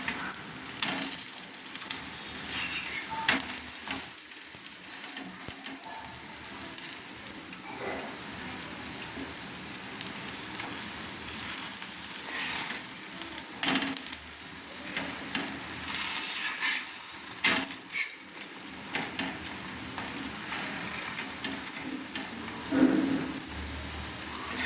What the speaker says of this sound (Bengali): তো পিঠা আমার তেল দিয়ে আবার এক পিঠ আমি তেল দিয়ে আর এক পিঠ উল্টে নিচ্ছি